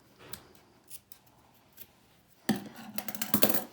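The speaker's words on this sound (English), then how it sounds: "So now I can cut them off." Scissors snip yarn ends off a knitted stuffed bunny, a few quiet isolated snips at first, then a louder, busier burst of close cutting and handling near the end.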